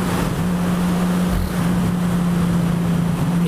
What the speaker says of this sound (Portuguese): pensa num roncadão top que tá esse escapamento